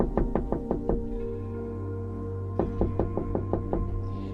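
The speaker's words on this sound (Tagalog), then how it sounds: "ilang saglit pa'y sunod-sunod na ang pagkatok sa kanyang pinto" Knocking on a door in two rapid bursts, about five sharp knocks each, separated by a short pause, close and loud over a low steady background hum.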